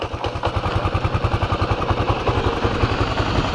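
A motorcycle engine idles and pulses steadily during a beginner riding lesson, its low rapid firing rhythm loud and close throughout with a faint mechanical clatter.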